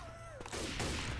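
Shotgun blasts from a Left 4 Dead 2 match, a dense burst of booming shots running together as a short close volley over game noise.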